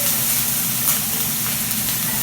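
Onions sauteing in a pan while the heat is turned down a little, a steady, close broadband sizzle and hiss that holds evenly throughout with no talk over it.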